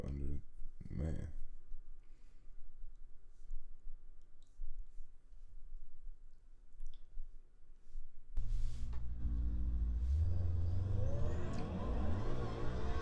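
A Corvette C5 with an upper pulley, intake and cat delete, said to make about 900 wheel horsepower, races a single turbo BMW M4. A loud engine roar bursts in midway and climbs as the cars accelerate, with voices earlier.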